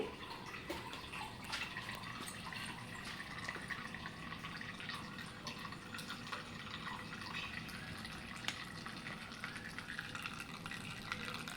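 Water drains from a wet grinder, trickling and dripping steadily with a soft splashing wash throughout, fairly close, no voices.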